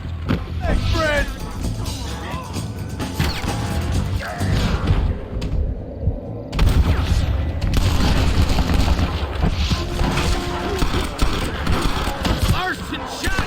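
Gunfire and booming impacts in the Western video game Red Dead Redemption, loud repeated shots and thuds scattered through a busy shootout, with game voices shouting over the battle.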